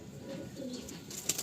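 An Andhra pigeon gives soft low cooing close by, a short murmuring call that ends in a brief brighter flutter or chirp near its end.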